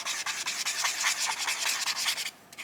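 A Liquitex acrylic marker scratches across paper in quick, continuous back-and-forth strokes, close and dry-sounding, with a brief pause near the end.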